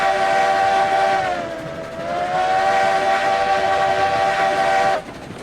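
A locomotive in the railroad game RailRoads Online labors up a grade, giving a steady, fairly loud tonal drone that dips briefly and then holds until it cuts off abruptly near the end.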